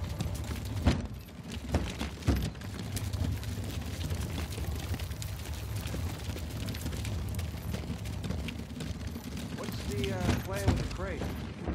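Scattered gunshots and dull booms crack out against a rumbling battle din in the video game Uncharted 4: A Thief's End, some sharp and close, with a faint voice-like sound near the end.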